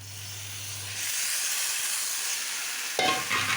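Taro leaves dropped into a hot pan spiced with ground coriander and cumin, a steady loud sizzle and hiss swelling as they land, then a sharp burst of stirring and scraping near the end, with no talk.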